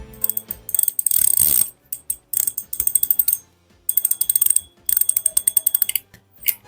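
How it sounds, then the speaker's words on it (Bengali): Drag of an Abu Garcia Max SX fishing reel clicking in rapid ratcheting bursts, several spurts of fast metallic ticks separated by short pauses, close and loud with no talk. "এটা ড্র্যাক সাউন্ডটা অনেক জোস এটা আমার ব্যক্তিগতভাবে ভালো লেগেছে শুনে দেখুন কেমন লাগে আপনাদের"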